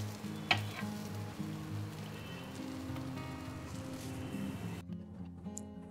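Chicken for a Korean-style panini fries in a pan, making a quiet, continuous sizzle with a low steady hum beneath it and one brief sharper tick near the start.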